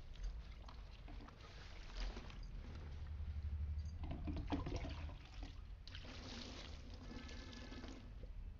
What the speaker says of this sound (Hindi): अब इनको करेंगे अच्छे से वॉश ताकि जो भी इसके ऊपर डस्ट है वो सारी ही उतर जाए